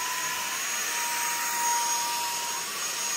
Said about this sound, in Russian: А теперь я добавляю мощность. Смотрите, как крутится.